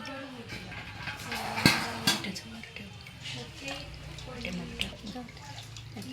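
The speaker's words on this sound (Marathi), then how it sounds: "पाणी जरासं घालून हे चोळती आता" Fish being rubbed by hand and rinsed with a little water in a pot, giving wet splashes, drips and occasional clinks of the vessel, close by, with a voice talking over it.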